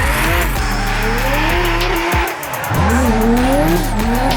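A 2026 Dodge Charger drift car at Roadkill Nights roars with a loud, sustained engine note while its tires squeal and skid. The engine pitch shifts throughout, with a brief dip before it revs hard again.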